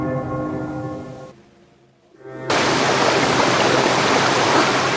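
A waterfall in the game American McGee's Alice roars as steady, dense broadband rushing, briefly dipping to near silence before returning loud and continuous, with no voices.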